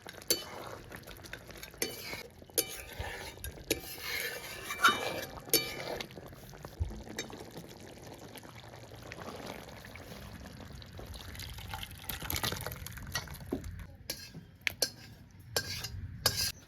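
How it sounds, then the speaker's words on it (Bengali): Mutton curry with potato is mixed in a pot after garam masala powder and chopped fresh coriander go in, giving soft scraping and clinking of a spoon against metal with faint sizzling, steady and close, no talk. "এবার ভালো করে মিশিয়ে নামিয়ে নেব"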